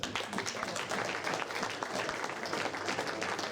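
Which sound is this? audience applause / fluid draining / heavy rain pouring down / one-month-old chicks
audience applause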